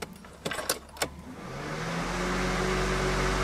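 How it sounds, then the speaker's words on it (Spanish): A car's electric radiator cooling fan, jumpered past a faulty thermo-switch, kicks on after a few light clicks and spins up into a loud steady whoosh that swells and holds close by. "Vamos a abrir el switch para escuchar y ver si el ventilador entra en función."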